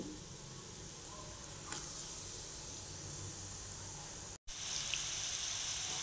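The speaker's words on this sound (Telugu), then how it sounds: "ఆయిల్ కొద్దిగా వేడెక్కాక దొండకాయ ముక్కలు వేసేసుకోవాలండి. మీడియం ఫ్లేమ్లో వేయించుకోవాలి." Ivy gourd (dondakaya) pieces frying in oil on a medium flame, a steady soft sizzle and hiss that goes on unbroken, heard close up at low volume with no talking.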